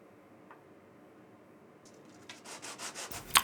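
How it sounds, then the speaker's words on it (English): Quick hand sanding of a wooden magnetic tool holder for chisels and planes, made from exotic wood: faint at first, then a burst of close, rhythmic rubbing strokes ending in a sharp scrape. "Just giving it a quick sand."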